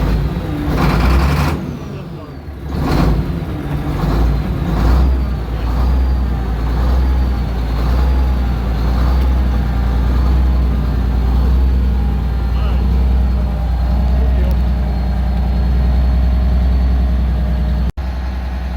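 An old Case 2470 tractor engine rumbles steadily throughout, loud and close, with a few knocks early on and voices talking over it.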